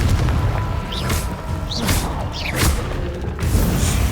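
A Confringo fire-blast spell going off in Hogwarts Legacy, a deep booming explosion with whooshing bursts and thuds, several impacts in quick succession over rumbling game sound.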